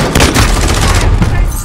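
A gun fires in Call of Duty Modern Warfare with rapid, loud, close bursts of several shots and a brief pause, briefly under faint talk.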